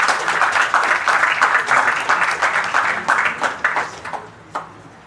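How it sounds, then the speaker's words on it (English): An audience claps for conference panelists, a close burst of many hands that stays loud and then tapers off to a few last claps. "Big round of applause, please."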